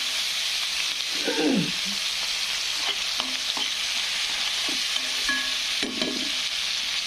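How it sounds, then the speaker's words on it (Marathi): Red tomatoes cook in a pan with onion frying alongside, giving a steady sizzle and hiss, broken by a few scraping stirs of a spoon. "लाल टमाटर असं छानपैकी मऊ होऊ द्यायचं."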